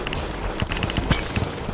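Rapid weapon fire in Terraria, a dense string of quick sharp shots with bursty impacts over busy game noise, loud and continuous.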